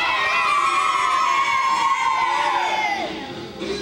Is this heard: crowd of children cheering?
yes